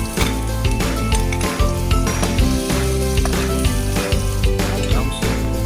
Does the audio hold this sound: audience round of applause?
no